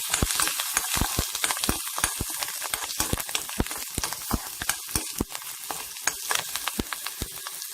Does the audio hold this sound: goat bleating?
no